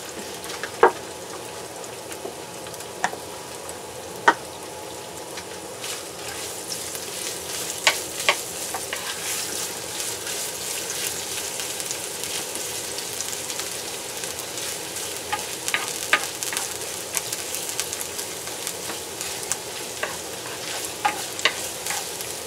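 Ginger fries in hot cooking oil, a continuous close sizzle with crackles and occasional sharp pops and stirring scrapes throughout.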